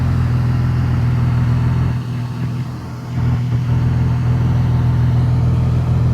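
A Porsche Carrera GT with Gemballa modifications idles nearby, its engine and exhaust giving a loud, steady low drone, with a brief dip in level in the middle before it returns to full strength.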